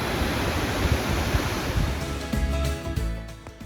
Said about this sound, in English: this nice wee waterfall